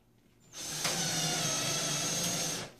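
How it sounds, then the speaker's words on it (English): A power drill driving screws whirs up abruptly and runs steadily for about two seconds close by, then stops. "I've got my drill here."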